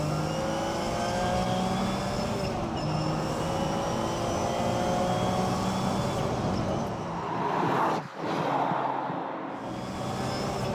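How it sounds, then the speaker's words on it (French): Bugatti EB110 Super Sport with a 3.5-litre quad-turbo V12, the engine accelerating in a loud sustained drone with rising harmonic whine, a brief sharp dip as a gear change cuts the sound, then the roar resumes and carries on. "Écoutez ce moteur!"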